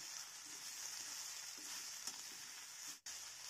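Drumstick leaves frying in a pan give a steady, even sizzle that carries on alone and fairly quietly, broken by a brief dip near the end.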